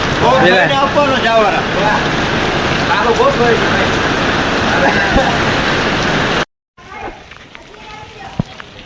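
Steady outdoor rain hisses loudly and continuously near the sea, with someone talking over it; the sound cuts out suddenly and returns much quieter.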